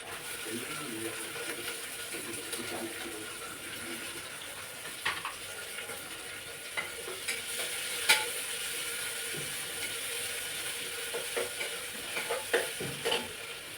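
Tomatoes dropped onto sautéed onions frying in a pan for masale bhaat, a continuous low sizzle broken by scattered stirring clicks and scrapes of the spoon.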